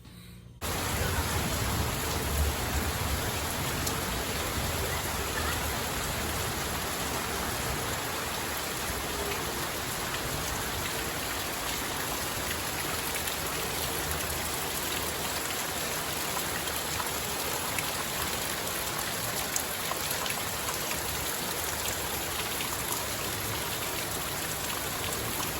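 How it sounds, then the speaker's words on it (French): Steady, dense rain falls outside in Paraty, a continuous hissing patter heard from indoors, unbroken and fairly loud for the whole stretch. "en laissant la pluie dehors"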